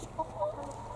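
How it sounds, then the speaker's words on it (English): Backyard hens on a garden plot clucking softly: a few short, close clucks in a quick sequence over quiet outdoor background. "My chickens are desperate to get out, little buggers."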